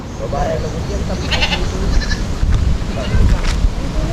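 Goats bleat over a steady outdoor background, a few short calls overlapping with some talking nearby.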